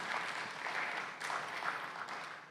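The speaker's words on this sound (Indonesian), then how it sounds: "Yang setuju beri tepuk tangan yang meriah buat nama Tuhan." A congregation claps during a Sunday church service, producing sustained, fairly even applause that swells and dips slightly throughout, with no voices heard over it.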